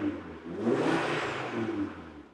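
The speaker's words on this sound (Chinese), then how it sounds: "我现在是属于把排气阀门关闭的状态，我踩几下油门" A car engine with its exhaust valve closed is revved, giving a muted, fairly quiet whirring rise that swells and eases back without any voices.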